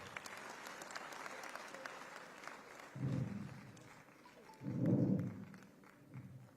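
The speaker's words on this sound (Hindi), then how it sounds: "तालियों के साथ स्वागत।" Applause welcoming students at a talent honour ceremony, faint background noise giving way to two bursts of clapping, the second louder and fuller, with a small trailing patter at the end.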